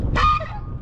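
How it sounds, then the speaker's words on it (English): A single loud, nasal honk from a pet duck out on a road, rising sharply and trailing off into a quieter second call, close by with no talk over it. "Anyway, George, get out of the road, you goofy duck."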